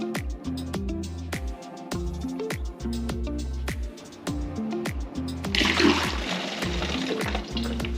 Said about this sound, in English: take the hose off, drain the deionised water out and refill it with coolant